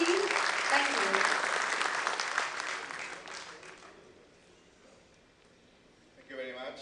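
An audience at an international coatings and ink industry conference applauds to welcome a speaker: dense clapping that slowly fades over several seconds, a voice heard briefly at the start and again as the clapping dies.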